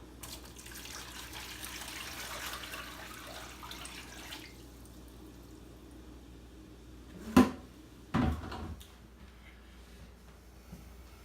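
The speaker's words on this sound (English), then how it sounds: "I'll put the rest of my water from my tank here into this bucket" Aquarium tank water poured into a bucket, a soft continuous trickle and splash for several seconds, then a quiet pause broken by two sharp nearby knocks, with no talking.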